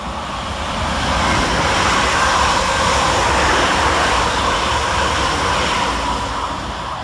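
Two coupled British Rail Class 350 electric units pass a station, producing a broad, steady rumble and rush that swells and holds close by for several seconds before easing slightly.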